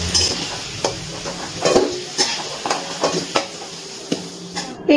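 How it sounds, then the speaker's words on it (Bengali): Bay leaf, dry chilli, cinnamon and cumin sizzle in hot oil while a spoon scrapes and stirs the pan, giving repeated sharp clinks over a steady frying hiss close by. "এই তেলের মধ্যে দিয়ে দিচ্ছি একটা তেজপাতা, একটা শুকনো লঙ্কা, একটা দারচিনির টুকরো, আর দিয়ে দিচ্ছি গোটা সাদা জিরে"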